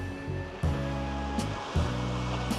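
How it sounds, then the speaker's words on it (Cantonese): Strong sea wind buffets the coast at Stanley, a loud, rushing roar with heavy gusts that surge and fade, blowing across a nearby microphone. "呢個位太大風啦"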